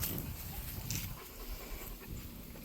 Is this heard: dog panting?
yes